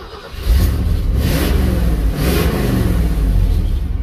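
A Ford Super Duty pickup's 7.5L 460 V8, fresh from a catalytic converter replacement with an exhaust flange leak from a missing bolt, starts and revs loudly up close, a steady low rumble sustained throughout with no talk.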